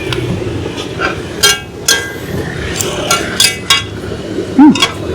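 Metal clinking from a street vendor oil-free roasting groundnuts in salt in Fort Kochi, India: several sharp, irregular clinks over a busy outdoor background with some nearby voices.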